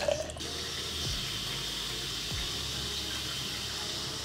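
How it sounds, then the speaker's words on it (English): Tap water runs into a cup at a sink, a steady, moderately close hiss and splash that continues evenly throughout without any voices. "I'm gonna fill up my cup with water."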